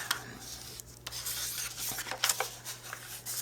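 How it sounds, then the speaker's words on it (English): Fabric being folded and burnished into a crease while sewing a vertical gusseted pocket, giving soft, close rubbing and scraping strokes in short repeated bursts over a low steady hum. "fold and burnish"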